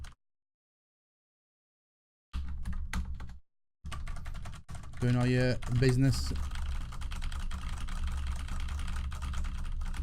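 Typing on a Roccat Ryos MK FX mechanical keyboard, a dense run of close key clicks under a person's talking, with a sustained low hum behind it after a short silent stretch at the start.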